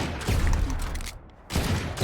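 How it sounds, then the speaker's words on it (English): Chamber's Sheriff pistol fired in the video game Valorant, quick loud shots in two bursts separated by a short pause, heard close with no talk. "So you can see I'm shooting much quicker with chamber sheriff here whenever I pull it out."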